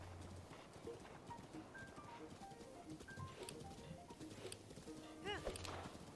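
In Zelda: Breath of the Wild, a horse's hooves clop in a steady patter at moderate volume, with a faint whinny near the end and occasional speech mixed in.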